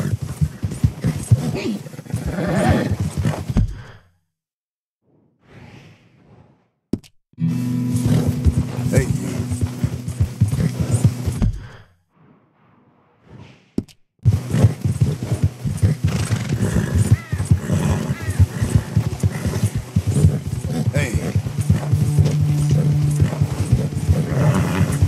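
Clip-clopping hooves and a horse's whinny in the video game Red Dead Redemption 2, broken by two quiet gaps, with a voice talking over the hoofbeats.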